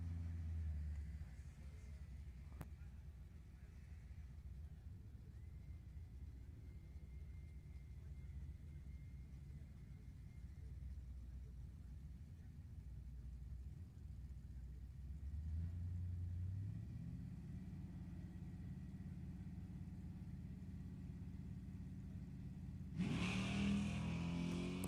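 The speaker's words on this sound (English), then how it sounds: "Ratcliffe scooting the Camaro right down the right side of the road" A Chevrolet Camaro drag races down the track at an NHRA Summit Racing Series E.T. final. The distant engine rumbles and builds steadily as it accelerates, then a louder burst comes near the end.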